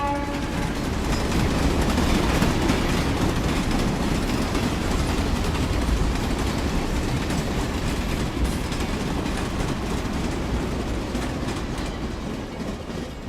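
Train running on rails as an effect in a Bengali horror audio story, a loud, steady rumbling roll with rhythmic clatter from start to end and no voices.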